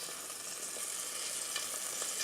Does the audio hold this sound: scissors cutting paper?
no